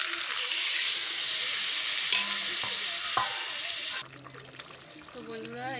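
Water poured into potatoes frying in a pan for aloo dum, a strong sizzle that drops abruptly to a softer bubbling simmer, with a voice speaking over it.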